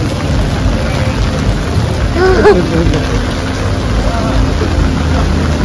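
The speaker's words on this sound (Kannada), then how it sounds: "ಸಿಕ್ಕಾಪಟ್ಟೆ ಮಳೆ ಬರ್ತಾ ಇದೆ" Dense, heavy rain pours down steadily at a beach resort in Goa, a continuous loud hiss with a brief rumble partway through.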